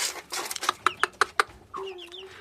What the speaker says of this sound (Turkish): Bu dördü de horoz arkadaşlar.